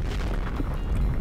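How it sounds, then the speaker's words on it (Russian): A muffled explosion booms far off in the block-building game Minecraft, a short low rumbling burst that rolls on for about a second without speech. "Опять где-то что-то бумкнуло. Опять что-то падает, что-то взрывается."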